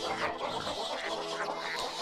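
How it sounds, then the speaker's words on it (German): A hyperactive black duck in the video game Baten Kaitos quacks in a busy, rapid burst of calls that stays close and fairly loud throughout, set against the game's background sound. "Also diese hyperaktive schwarze Ente"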